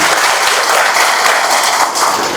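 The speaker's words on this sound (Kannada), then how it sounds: "ನಿಮ್ಮ ಜೋರ ಚಪ್ಪಾಳೆ ನಮ್ಮ ಅಧಿಕಾರಿಗಳಿಗೆ" Loud, dense applause from a large crowd at a Valmiki Jayanti community meeting, the clapping honouring officials and sustained at full strength from start to finish with no voices over it.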